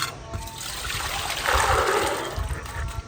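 Fresh water pours steadily into a pot of soaked, rinsed chickpeas in a village kitchen, a close, continuous trickling and splashing that swells briefly midway.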